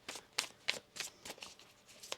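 Tarot cards are riffled and shuffled by hand during a reading, a quick run of about eight soft, crisp flutters and taps, close but quiet, with no talk over them.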